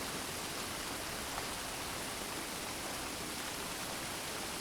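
Steady, dense rain falling for relaxation, a continuous broadband hiss with no distinct drops or pauses, even and unchanging at low level throughout.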